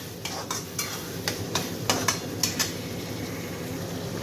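Pav bhaji masala fries in melted butter in a pan as a spoon stirs and taps the metal in a quick, uneven series of clinks, then a steady close sizzle carries on alone.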